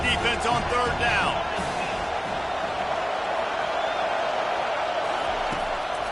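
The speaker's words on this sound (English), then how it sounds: "Decibels rising as the crowd gets behind this defense on third down." A stadium crowd roars in an LSU at Miami college football video game, a broad, steady wash of noise that holds throughout while a commentator's voice runs over the first couple of seconds.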